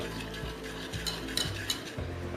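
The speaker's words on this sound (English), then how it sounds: "now we are going to start whisking it through" Whisk stirring a chocolate and cream ganache in a bowl for a chocolate cake, with steady close scraping and tapping strokes repeating about twice a second.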